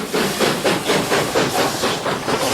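A steam locomotive on the Great Central Railway sets off with loud, rhythmic chuffs of steam, about five even beats in quick succession, close by and with no voices.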